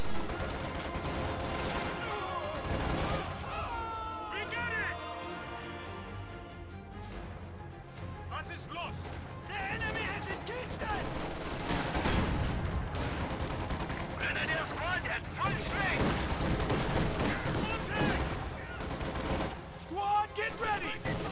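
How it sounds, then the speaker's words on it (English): In a World War II strategy game, a .50 cal machine gun and rifles fire in dense bursts and scattered shots, loud and overlapping, with shouted voices and game sounds mixed in throughout. "50 cal suppresses those Panzer Grenadiers through the trees"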